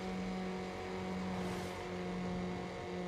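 Game engine sound of a Peugeot 206 in NFS Underground, a continuous, even car drone at steady revs, loud and close with only slight swells in level and no voices.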